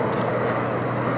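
A Royal Navy anti-submarine search-and-rescue helicopter of a type first selected in 1966, flying at a naval air show. It gives a continuous broad rotor-and-engine roar at moderate distance, steady and unbroken.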